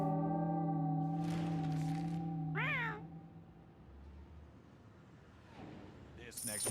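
Cats meowing in the video game Mewgenics, a drawn-out meow rising and falling over background music, then fainter mews later on, with someone talking under the start.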